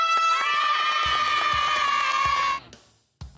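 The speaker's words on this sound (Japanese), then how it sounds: "拍手" Loud cheering and clapping from a crowd of students in a school gym, shouts and whoops over rapid applause that cuts off abruptly near the end.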